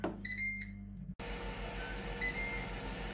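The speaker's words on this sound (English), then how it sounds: "And we've beeped." A Ninja Foodi air fryer gives a few short electronic beeps at the start while dehydrating orange slices, then a steady whirring hum of the running appliance fills the rest.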